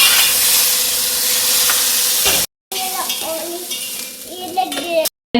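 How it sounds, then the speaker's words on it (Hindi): Tadka tempering sizzles loudly in a pan during home lunch cooking, a steady broadband hiss for over two seconds, then a brief cutoff followed by quieter crackling and stirring. "अब इसमें तड़का लगाएंगे थोड़ी देर में।"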